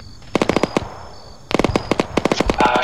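Rapid bursts of gunshots crack in two close volleys, sharp and loud, with a brief lull between them amid outdoor combat.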